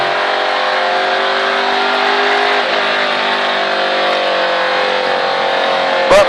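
A NASCAR race car engine holding a loud, steady high-pitched drone, sustained throughout without pause and close by, rising briefly at the very end.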